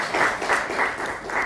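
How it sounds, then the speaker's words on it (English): A studio audience at a televised panel discussion gives a short round of applause, steady massed clapping heard on its own. "A round of applause for the panel"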